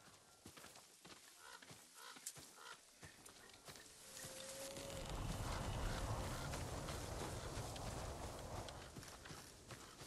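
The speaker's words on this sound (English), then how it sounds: "I want to look at his horse." Horse hooves clip-clop on the ground in Ghost of Tsushima, a farm horse at the stables, with light rhythmic steps at first, then a louder, denser stretch of movement and ambient rumble partway through.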